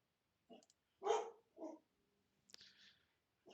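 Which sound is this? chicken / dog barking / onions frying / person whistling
dog barking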